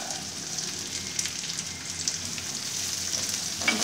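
Onions frying in a pan with garlic ginger paste for a chicken samosa filling give a steady, close crackling sizzle that carries on without a break, with no talking.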